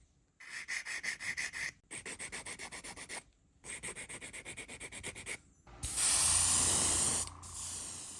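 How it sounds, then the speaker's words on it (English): Primer spray paint hisses from an aerosol can onto model car parts for a Revell Pontiac Fiero GT kit, in four close, steady bursts of pulsing spray separated by short pauses, then a louder rushing blast. "Everything is given a primer coat before the base coat."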